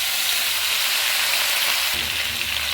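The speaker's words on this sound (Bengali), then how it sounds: "এবার ওই তেলেই আমি 5 ফোড়ন সম্বাদ দিলাম, দিয়ে সমস্ত কাটা সবজি আমি ছেড়ে দিলাম" Chopped vegetables drop into hot oil seasoned with five-spice (panch phoron) and fry with a steady, dense sizzle up close, briefly swelling louder partway through.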